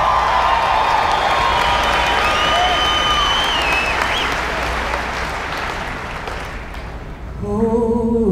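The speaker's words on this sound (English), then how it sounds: "A big round of applause for Julia Cecere as she sings our national a" A large convention crowd applauds and cheers loudly in a big hall, with whoops over sustained clapping that fades slightly, then a singer's voice begins over a sound system near the end.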